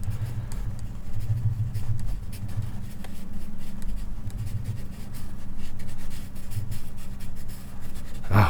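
A number 2 pencil scratches and scribbles on paper in short, uneven strokes, close up over a low steady hum.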